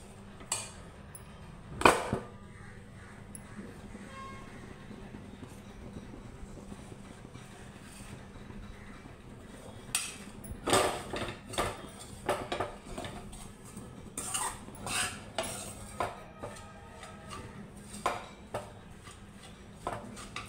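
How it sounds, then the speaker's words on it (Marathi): Semolina mixed with cardamom powder is stirred and roasted in a pan for ladoos, producing irregular scraping and tapping of the utensil against the pan, close and moderately loud, clustering more densely toward the end, without speech. "आता हे पूर्ण एकत्र एकजीव करून घेऊया. एकदम छान भाजत आला हा रवा"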